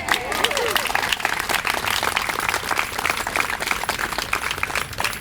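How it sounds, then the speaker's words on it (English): Audience applause at an outdoor Pride flag raising ceremony in Newton, a dense wash of clapping from a crowd that holds steady through the whole stretch, with voices mixed in. "Go ahead, you can clap."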